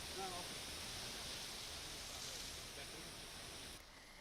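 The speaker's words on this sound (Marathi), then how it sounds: "हा धबधबा 50 ते 60 फुटांवरून कोसळतो" The Rautwadi waterfall in Radhanagari taluka, Kolhapur, drops 50 to 60 feet during monsoon rains and gives a steady, even rushing roar that fills the whole stretch without breaks.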